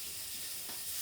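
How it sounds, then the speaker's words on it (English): Tuna steak searing on a hot griddle pan, a steady broadband sizzle holding at an even level throughout, close and alone with no talking. "we're going to place the tuna onto that hot griddle pan"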